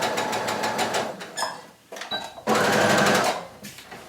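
A sewing machine stitches a half-inch seam on a lined pocket and flap. It runs in close, loud bursts of rapid needle clatter with short pauses between them, and a voice is briefly heard.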